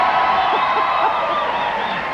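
Canned studio-audience applause and cheering on a 1992 TV sketch comedy show, switched on by hand, fills the short stretch as a steady wash of clapping and whoops with no talk over it.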